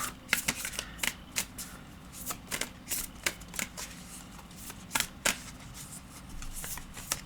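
Tarot cards are shuffled by hand, a series of quick riffling and snapping bursts at close range, irregularly spaced with short pauses, fairly quiet overall.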